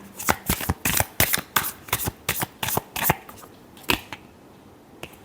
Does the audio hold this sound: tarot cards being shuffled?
yes